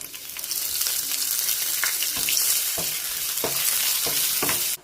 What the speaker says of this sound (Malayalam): അണ്ടിപ്പരിപ്പും മുന്തിരിയും ഒക്കെ നമുക്കൊന്ന് വാട്ടിയെടുക്കണേ